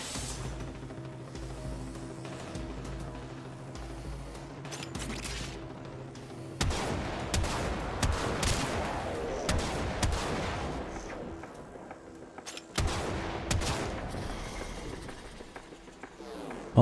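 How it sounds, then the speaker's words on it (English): An enemy fires at the player in a video game shooter: a long run of rapid gunshots and bursty automatic fire, fairly close, with heavier louder volleys breaking in partway through over a steady background hum. "He's trying to shoot me."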